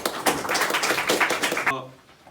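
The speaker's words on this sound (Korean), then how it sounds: "좀 박수로 맞이해 주시면 감사하겠습니다" An audience at a North Korean technology briefing applauds to welcome a speaker. The clapping is a busy crackle under a voice, then cuts off sharply, leaving quieter room tone.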